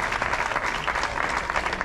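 A crowd claps for a frontón player, the reigning Open champion, at a hand-pelota exhibition in El Puig, Valencia. The applause is dense and continuous, with a slightly uneven texture that suggests a gathered audience.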